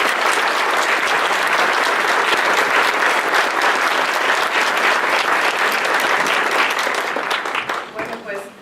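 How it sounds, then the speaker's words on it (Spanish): Sustained applause from an audience at a talk on natural hazards, loud and steady clapping with crowd noise that tapers off near the end. "Yo quiero pedir nuevamente un fuerte aplauso para el ingeniero."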